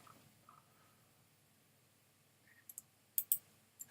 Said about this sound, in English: all of these I'm just going to click on them